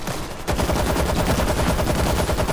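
Rapid automatic gunfire from a World War Z zombie shooter game rattles in a dense, continuous stream after a brief lull, loud and unbroken to the end.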